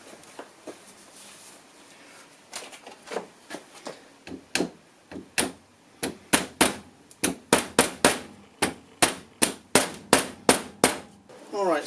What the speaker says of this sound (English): then we can tap in the grease seal